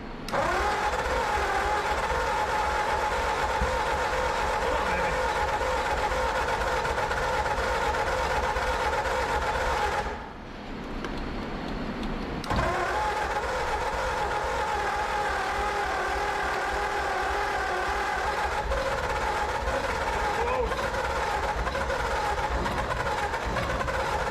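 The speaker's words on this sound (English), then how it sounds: "Starter is not happy." A flooded 1935 Ford coupe's flathead V8, parked for 50 years, grinds on its starter in long labored cranks, with a short pause partway through before the cranking resumes, close and loud.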